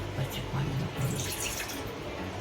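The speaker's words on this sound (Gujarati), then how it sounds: "મીડિયમ ગેસ ઉપર આપણે થોડું પહેલાં પાણી નાખીશું" Water is poured into a large cooking pot set on a gas stove over medium flame, a soft steady splashing gush heard up close and fairly quiet, with a faint voice murmuring beneath.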